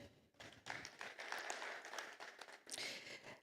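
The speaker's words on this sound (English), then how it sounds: "Clap for the FPMU." Applause from an audience at a project retreat in Lagos, a dense, steady patter of many hands clapping together that swells briefly near the end, fairly close with no talk over it.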